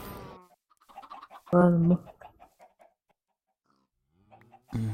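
Minecraft chickens cluck and squawk in short bursts, one sharp cry standing out, while a person speaks briefly between them.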